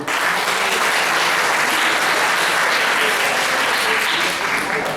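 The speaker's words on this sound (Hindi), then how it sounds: "तो पूरी DLSA की टीम के लिए जोरदार तालियां" An audience at a college legal awareness certificate ceremony claps loudly and continuously, a dense, steady wash of applause filling the hall from start to finish.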